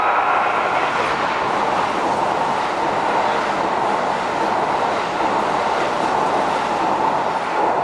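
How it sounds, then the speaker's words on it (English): A green limited express train rushes through a Japanese station, a steady loud roar of wheels and rail noise that holds at full level throughout, with no voices over it. "That was a limited express, and it was a green train."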